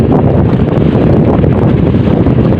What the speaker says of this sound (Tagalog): At ang hangin natin ay hangin hamihan.